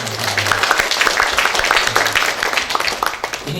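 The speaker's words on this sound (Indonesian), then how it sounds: "Tepuk tangan." Applause from the audience at a graduation ceremony at STIPSA Kumala Nusa, a steady wash of clapping lasting several seconds, mixed with a faint voice.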